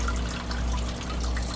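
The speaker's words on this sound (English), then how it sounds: "This is my flow and everything I have going down there. Air bubbles and all," Water flowing and bubbling through a home hydroponic system with air bubbles, a steady close trickling rush over a low pump hum, continuous throughout.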